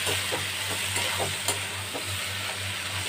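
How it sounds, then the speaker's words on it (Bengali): Boiled moong dal being stirred with fish head in a pan for a Bengali dal, a continuous soft sizzle and hiss with faint repeated scrapes of the spoon, close by and without speech. "ডালটা আমি এটার সাথে খুব ভালো করে নেড়ে দিলাম।"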